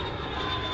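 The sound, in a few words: jet aircraft sound effect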